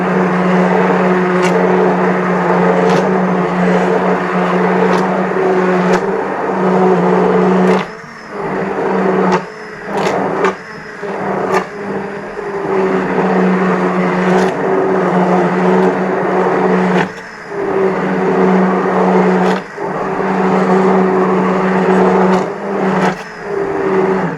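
A blender purees soup made with chicken stock cubes, a loud, steady motor whir that runs throughout and is broken by a few brief dips and pulses.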